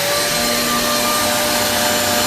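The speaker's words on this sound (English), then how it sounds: "now I just turn the Hoover back on" A repaired Hoover vacuum cleaner running steadily at close range, a loud unbroken motor whine and airflow rush with a faint tonal hum, no voices.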